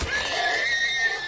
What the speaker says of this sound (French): j'ai tout shot les chevaux.